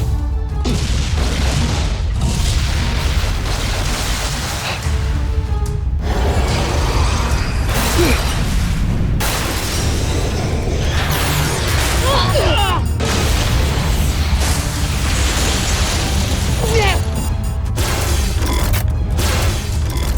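Voltes V firing its bazooka in a TV series battle, with heavy booms and explosions under a dense, loud mechanical soundtrack, continuous throughout with brief dropouts.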